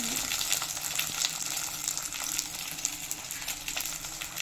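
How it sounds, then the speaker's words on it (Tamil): Eggplant sautéing in oil, a continuous close crackling sizzle with faint stirring, steady and unbroken throughout. "கத்திரிக்காய். அதையும் இந்த எண்ணெயில் போட்டு நல்லா வதக்கிடுவோம்."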